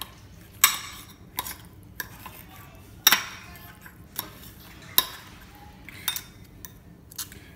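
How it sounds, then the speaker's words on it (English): A knife cuts a piece off an onion on a hard surface, giving a few sharp, separate cutting and tapping knocks at irregular intervals. No one speaks over the sounds, which are close and fairly clear. "we're gonna cut a piece of that onion off."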